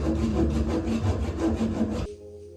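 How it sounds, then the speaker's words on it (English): Rhythmic back-and-forth scraping of sandpaper on a wooden balustrade, close and steady, stopping abruptly near the end. "I can sand over easily."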